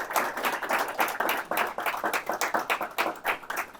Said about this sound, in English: Nice round of applause for Joan Davis.